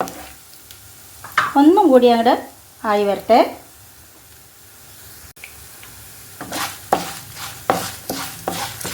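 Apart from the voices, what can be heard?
ingredients being roasted and stirred in a pan for sambar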